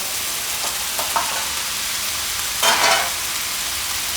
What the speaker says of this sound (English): Toss it nicely while it's on high heat.